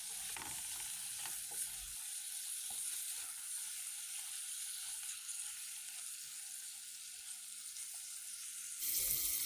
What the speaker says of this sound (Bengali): এখন আমি কিছু ফ্রোজেন ভেজিটেবল দিয়ে দিচ্ছি অল্প করে। ভেজিটেবলগুলো দেওয়ার পর এখানে কেটে রাখা গাজর ও টমেটো দিয়ে দিয়েছি।